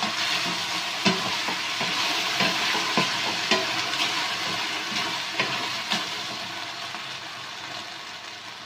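Fresh cream pasta sauce being stirred in a pan on a low flame, continuous bubbling sizzle broken by regular spoon scrapes and light clinks, no voices.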